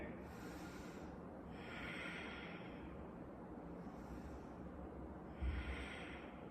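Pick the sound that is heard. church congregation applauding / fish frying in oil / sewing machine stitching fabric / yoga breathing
yoga breathing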